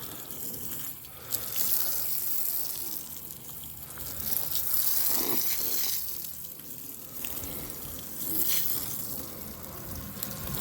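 Continuous hissing spray of water from a hose onto a 1992-1999 Chevrolet Suburban's rear window, with surging bursts and splashes, fairly close, running throughout without speech.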